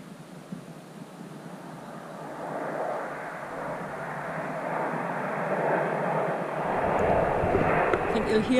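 Red Arrows display jets roar overhead at an air display, a broad loud rushing drone that swells and stays steady, with crowd voices underneath.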